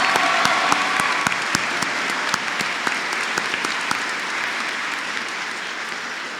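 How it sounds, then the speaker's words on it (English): Sustained audience applause at a 2025 graduation ceremony for Odyssey Charter Jr/Sr, steady dense clapping from a large crowd throughout, with occasional sharper individual claps standing out near the front. "Please give a round of applause to the class of 2025 salutatorian, Sebastian Pasek."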